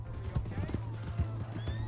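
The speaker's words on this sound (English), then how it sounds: "Hey, that's my horse!" A horse in the Western game Red Dead Redemption 2 moves with quick, rhythmic clip-clopping hooves and lets out a whinny, all close by. A voice talks over the hoofbeats.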